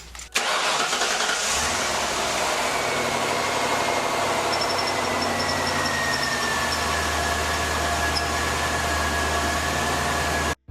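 A repaired Mercury Mountaineer SUV engine cranks and catches almost at once, then settles into a steady, loud idle for about ten seconds, alone with no talk, before cutting off abruptly.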